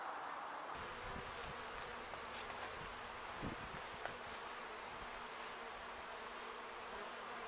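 Honey bees buzz around a Flow Hive that has been moved a short distance, producing a dense, steady hum near by with a constant high whine and faint passing buzzes, no voices.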